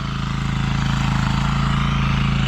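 A motor hoe tiller churns a field with its small engine in a steady, loud, close putter, the rhythmic thumping running unbroken throughout with no talk over it.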